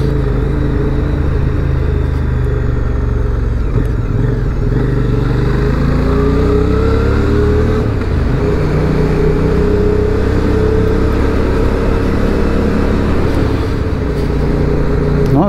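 A 2023 QJ Motors SRV 550 motorcycle engine pulls hard through the gears, its loud, steady drone rising in pitch, dropping at each shift, then climbing again for the full stretch with no talk.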